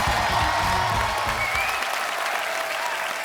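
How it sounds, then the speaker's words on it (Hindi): Studio audience on a Hindi comedy talk show breaks into loud, dense applause that fills the room, with some voices in the first half and the clapping easing slightly toward the end. "जोरदार तालियां हो जाए एक बार।"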